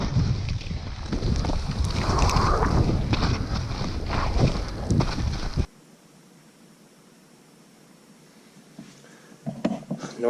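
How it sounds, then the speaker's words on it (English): Strong wind roars and buffets the microphone while skiing an open line, loud and steady for about five and a half seconds before cutting to near silence, with a brief gust returning at the end. "That wind is ripping from the right."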